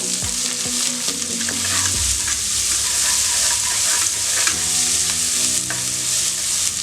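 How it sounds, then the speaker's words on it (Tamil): Chopped shallots sautéing in oil for drumstick sambar, a loud, continuous sizzle with repeated stirring scrapes and clinks against the pan, close and steady throughout, with no speech. "இப்போயே வெங்காயம் இந்த அளவுக்கு நல்லா வதக்கியாச்சு."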